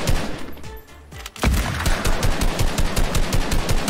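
Rapid automatic gunfire in Fortnite, a dense run of close, loud shots in a steady rhythm that starts abruptly after a short quieter lead-in and keeps going to the end.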